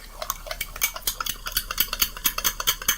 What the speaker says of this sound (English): Now I stir it, and I got a fork this time.